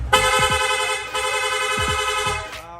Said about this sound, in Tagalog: Nag-install din tayo ng rapid horn.